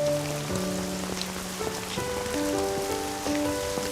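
Rain falls steadily in a Korean TV drama scene, a soft, even hiss of drops with gentle music playing underneath and no talking.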